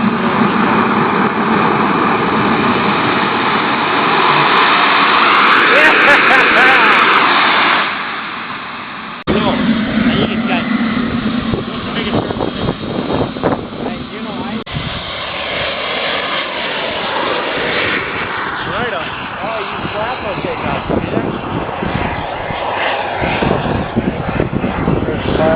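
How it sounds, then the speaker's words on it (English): A quarter-scale radio-controlled A-10 Warthog jet with twin turbine engines roars past at an outdoor model airshow, a loud swelling turbine whine that peaks, cuts out abruptly, then gives way to rougher rumbling engine noise with people talking nearby. "This thing is just sick. 2 turbine motors."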